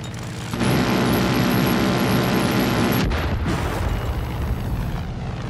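Fuel tankers blow up in the video game Far Cry 5 with a sudden loud, sustained explosive roar that starts abruptly. A second blast hits partway through, and the rumble carries on heavily afterward.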